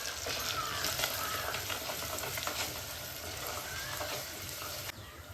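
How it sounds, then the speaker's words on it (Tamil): Onion and curry leaves frying in oil in a clay pot, a continuous even sizzle heard close up with faint bubbling and no talking, dipping slightly near the end. "அப்படியே எண்ணெயில் பொரியிறாங்க. அப்படியே வெங்காயம் கருவேப்பிலையும் பொரியிட்டோம்"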